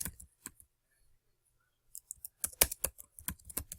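Someone types a letter on a computer keyboard, with sparse keystrokes at first, then a brief pause, then a quicker run of sharp, close clicks in a quiet room.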